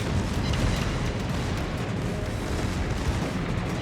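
Battleship secondary guns firing in World of Warships, on the German battleship Grosser Kurfurst: a loud, dense rumble of booming gunfire with no quiet gaps.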